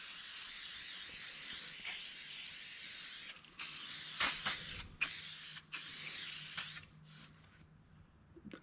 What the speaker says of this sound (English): So let's spray some of the SC1 on this noticeable dust.